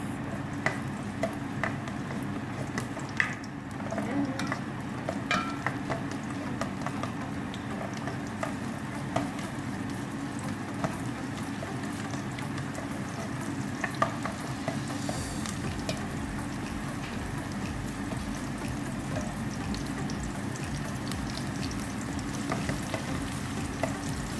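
Onions frying in a pan alongside garlic for a sayote and carrot sauté, a steady close sizzle with light clinks and stirring throughout, no talking.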